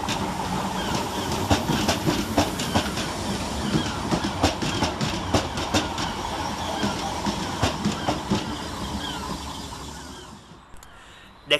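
Southern Railway class 313 electric unit 313212 arriving at Angmering station on a January 2022 morning: steady rolling rumble with rhythmic clickety-clack wheel beats over rail joints, fading as the train slows, then a final sharp clunk.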